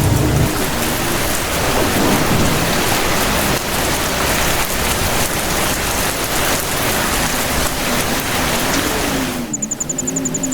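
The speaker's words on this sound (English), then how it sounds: "And then, only the sound of the rain remained." Heavy, steady rain pours throughout as a radio drama sound effect, with a low rolling thunder rumble beneath it and no voices.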